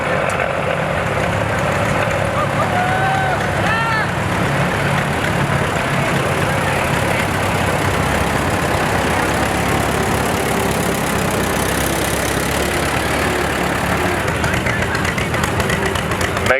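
Antique tractors, including an old John Deere B with spoked wheels, rumble past on a parade track with steady mid-pitched engine drone and idling throughout, loud and continuous.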